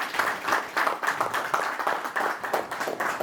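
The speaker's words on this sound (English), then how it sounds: "Please, a round of applause, everyone." An audience at a launch event in Harare, Zimbabwe, gives a round of applause: many hands clapping in a steady, moderately loud patter that carries on without voices.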